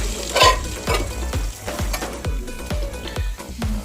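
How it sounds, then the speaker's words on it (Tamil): Prawns fry on a slow flame in a pan for Kerala prawns mappas, with a soft sizzle under a series of regular low knocks and scrapes as they are moved, close and without speech. "ஸ்லோ ஃப்ளேம்லேயே வச்சு லைட்டாக அந்த கோட்டிங் மட்டும் ஃப்ரை ஆனால் போதும் நமக்கு"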